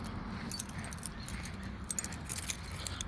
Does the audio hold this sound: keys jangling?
yes